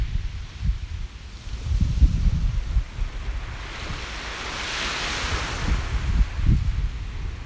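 Waves wash onto a beach in rolling surges with wind buffeting the microphone, a moderately loud, irregular low rumble and hiss without voices.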